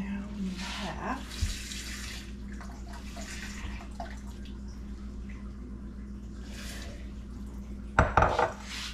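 Hot water runs from a kitchen tap into a 4-cup measuring cup for pickle brine, a steady stream near at hand, with brief clinks of dishes and a louder clatter near the end.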